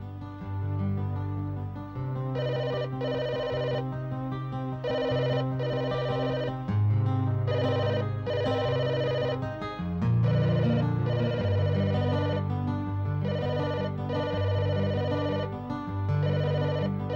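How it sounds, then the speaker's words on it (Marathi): A telephone rings steadily in a repeating electronic ringtone pattern, loud and close, continuing throughout with no talk. "शशांक, फोन घ्या ना."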